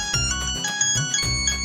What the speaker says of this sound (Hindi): फोन तो सुन लीजिए